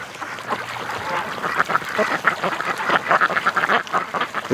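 Courting ducks on a lake quack in quick, repeated bursts, close and fairly loud, with some goose-like honks mixed among the calls and no voices over them.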